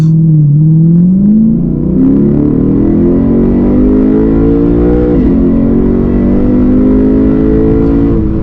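A Lexus RC F sports car engine revs loudly and steadily, heard from inside the car, its pitch climbing as it accelerates, filling the whole clip without any talking.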